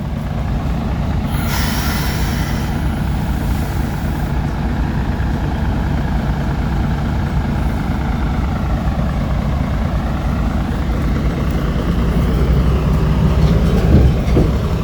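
A train running at night with its headlights on, a loud, steady rumble of wheels on track with a faint high squeal near the start, swelling slightly louder toward the end, no voices.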